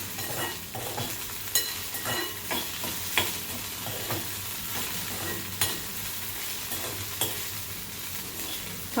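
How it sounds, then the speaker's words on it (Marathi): Fried okra being mixed with salt in a pan, with a continuous sizzle under regular spatula scrapes and taps against the pan, fairly close and steady, no talking. "मीठ टाकल्यानंतर मिक्स करून घ्यायचं"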